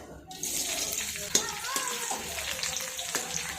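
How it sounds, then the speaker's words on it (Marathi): Green chilli pieces frying in hot oil for a puffed rice chivda, a steady close sizzle with light stirring scrapes, a voice speaking faintly beneath. "हिरव्या मिरचींचे तुकडे परतून घेऊयात."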